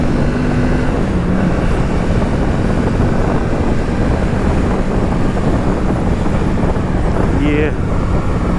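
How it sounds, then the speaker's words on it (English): Strong wind buffets a rider on a 2025 Kawasaki Z650 naked motorcycle at highway speed, a loud, steady broadband roar that fills the whole stretch without letting up. "It is very windy out here today."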